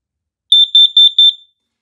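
A Kidde carbon monoxide alarm under test gives a high, piercing electronic beep in a quick run of about eight short pulses, close and loud against silence.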